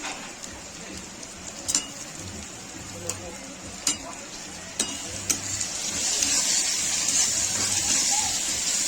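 Stirring onion, tomato and salt in a frying pan: a steady sizzle with a handful of sharp clicks from the spoon against the pan, growing louder toward the end, while a voice speaks intermittently.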